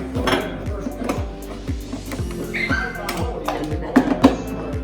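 Repeated clunks and light metallic clatter as a handle is seated and twisted into place, close by, with some background talk.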